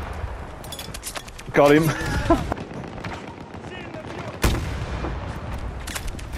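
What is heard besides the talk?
M5 84mm recoilless rifle firing in Battlefield 2042, video game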